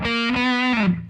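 A distorted electric guitar plays the harmony line from the opening of a song's main riff, a short sustained phrase of a few notes, loud and alone.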